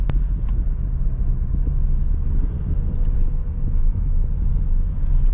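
A Suzuki Ertiga creeps along in second gear with its engine under load, producing a continuous low rumbling drone with road noise, steady and close throughout, no talking.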